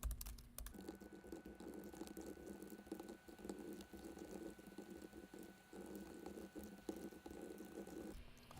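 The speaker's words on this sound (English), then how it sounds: "I just typed a lot of code in here" Fairly quiet, steady computer keyboard typing while code is entered in a Python lesson: a continuous patter of clicking keystrokes lasting the whole stretch, with no voice.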